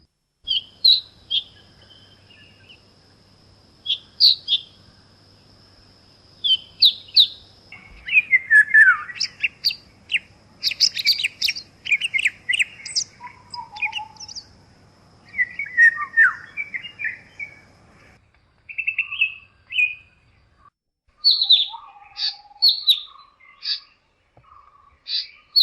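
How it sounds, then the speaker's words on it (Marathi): Blue parakeet calls in a natural setting: a series of sharp, high chirps and whistled notes in irregular bursts, some rapid and clustered, others spaced apart, clear against near silence. "नीळ पोपट."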